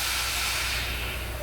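A truck's parking brake is released, letting out a short, steady burst of air hiss close by that tapers slightly at the end.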